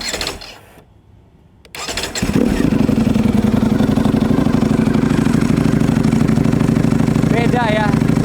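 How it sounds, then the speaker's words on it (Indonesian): A Ducati V4 superbike engine starts after a brief quiet moment, then settles into a loud, steady, throbbing idle close by, with a faint voice near the end. "Mesinnya masih dipanasin dulu"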